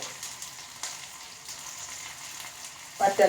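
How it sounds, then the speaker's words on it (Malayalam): Shallots and dried red chillies hit hot coconut oil for a Kerala milk kappa dish, giving a steady soft sizzle with light stirring and a brief louder spatter near the end. "വെളിച്ചെണ്ണ നന്നായി ചൂടായി വന്നിട്ടുണ്ട് കേട്ടോ ഇനി നമുക്ക് അതിലേക്ക് ഉണ്ടല്ലോ ഉള്ളി ചെറിയ ഉള്ളി നമുക്ക് അതിലേക്കാണ്ട് ഇട്ട് കൊടുക്കാം"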